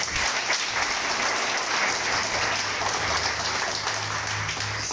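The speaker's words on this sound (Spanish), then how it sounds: "Dale un aplauso al Creador." A congregation applauds steadily at a Shabbat message, a dense, even wash of clapping that stays at the same loudness throughout.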